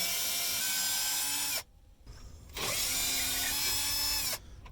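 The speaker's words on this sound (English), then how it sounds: "I'll just remove these 2 screws." Torx T30 screws being driven out of the center console of a 2005 Hummer H2 with a power driver, two loud whirring bursts close up separated by a brief pause, with faint mechanical rattling.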